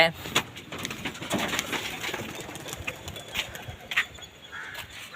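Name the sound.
homing pigeons cooing and flying near their cage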